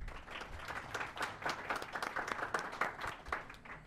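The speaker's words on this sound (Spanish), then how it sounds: "Recibimos con un aplauso a la doctora Yurixi Gallardo" Audience applause welcoming Dr. Yurixi Gallardo Martínez to a university law-education lecture, steady dense clapping from a crowd filling the whole few seconds at even loudness.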